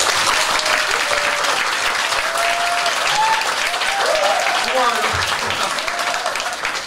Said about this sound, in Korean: 그리고 정말 응원의 박수 한번 같이 시작!